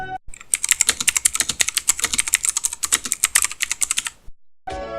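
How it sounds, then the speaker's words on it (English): Fast, steady clicky keystrokes on a budget Metoo Zero Edition mechanical keyboard fitted with clone blue switches, close and crisp, running continuously for about four seconds before stopping, with a brief burst at the very end. "It uses Cherry and Max Blue rip-off keys. They type very good in my opinion."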